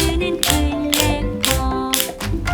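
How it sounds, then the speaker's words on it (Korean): A wooden clapper instrument, shown in a class on percussion instruments, produces sharp hand-clap-like strikes, loud and close, in quick repeated bursts of about four snaps each, with no voices. "짝짝짝짝 클래퍼 손뼉 소리 만드는"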